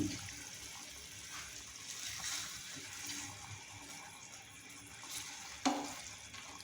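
Water poured into grass carp curry frying in a pan gives a low, even hiss and gentle sizzle, with a brief clatter near the end; no voices.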